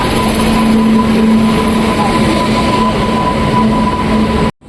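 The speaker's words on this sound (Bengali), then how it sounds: "অ্যাটলাস ট্রেন এসেছে আমাদের" Train pulling into a railway station, a loud continuous rumble with steady tonal hums, close and unbroken before cutting off suddenly at the end.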